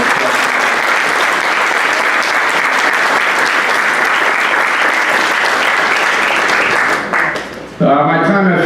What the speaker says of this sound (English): So everybody please give another round of applause